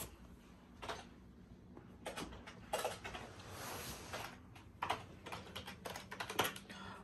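Fingers tap quietly on a computer keyboard in irregular bursts of clicks with short pauses between them. The typing is faint and close in a quiet room.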